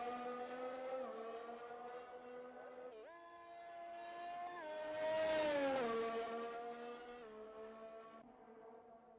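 A race car laps the Spa circuit in a racing video game, its engine note climbing and dropping through gear changes, swelling louder around the middle, heard alone with no talk.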